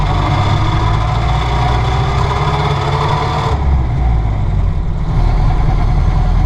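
A 1931 Ford Model A engine runs loud and close while the gears are shifted, its low steady chug dipping and changing character about halfway through, with a whining tone rising beneath it before shifting.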